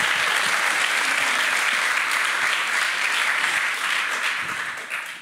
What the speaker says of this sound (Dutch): Laatste applausje.